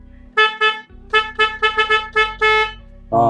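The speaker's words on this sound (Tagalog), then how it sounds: "ang ganda ng busina niya." Small vehicle's horn honked in a quick series of about nine short toots, bright and close, with an engine idling underneath and one more blast at the end.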